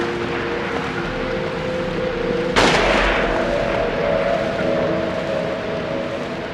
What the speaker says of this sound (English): sniper's back. And taking aim.